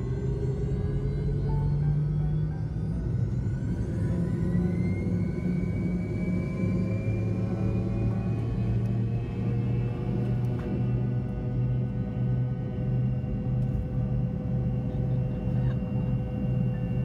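An airliner climbing away after takeoff, a steady heavy engine rumble and whine with a slowly rising tone, continuous and loud throughout.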